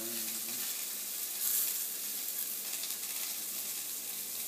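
Pork tenderloin seasoned with rubbed sage sizzles steadily in a pan on high heat, a dense, even hiss of frying heard up close with a brief louder flare partway through and no talking.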